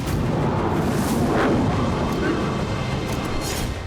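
Iranian missile strikes explode over Israel as a sustained, dense roar of distant blasts and rumbling booms, with a continuous heavy low-end wash and no clear separation between impacts.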